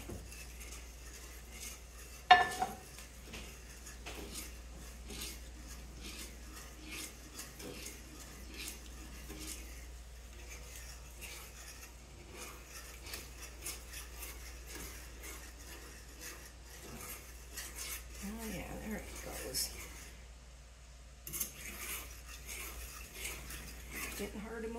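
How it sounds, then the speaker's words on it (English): A spoon scrapes and clinks through thick gravy in a cooking pot for chicken pot pie, with irregular soft stirring scrapes and an occasional louder knock against the metal, quiet and close. "Stir it right in there."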